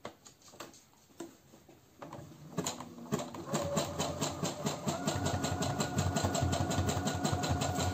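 A sewing machine stitches over an overlock seam on a DIY period-underwear project, starting with a few slow clicks, then settling into a fast, even, mechanical ticking rhythm that grows louder and steadier, close up with no talk.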